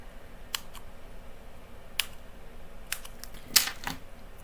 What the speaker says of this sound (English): I am going to snip into the surrounding area because I want some dimensional there as well.